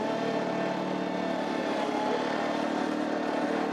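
A Ventrac compact tractor backs straight out with its attachment in float, giving a steady, even engine drone nearby with no talking.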